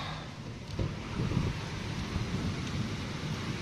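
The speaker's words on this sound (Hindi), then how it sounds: "बहुत तेज बारिश आ रही है।" Heavy rain pours steadily in a dense, roaring hiss, loud and continuous without any voices.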